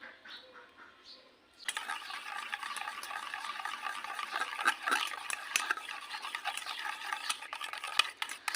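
Raw mango paste stirred with white oil in a bowl, a continuous close wet scraping and squelching that starts after a quieter opening moment and carries on steadily.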